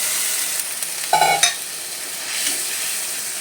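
A spice paste of cumin, coriander, chili and turmeric with a little water fries in a pan over low heat, a steady soft sizzle broken by a brief scrape and clatter of stirring near the middle.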